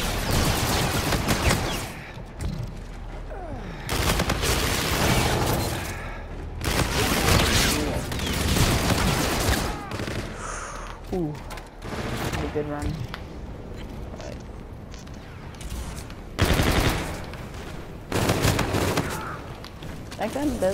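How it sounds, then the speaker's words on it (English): Rapid bursts of automatic gunfire from a fast-firing weapon in Call of Duty: Infinite Warfare, loud and dense, with short gaps between volleys throughout. "it shoots really fast, but it doesn't do a lot of damage"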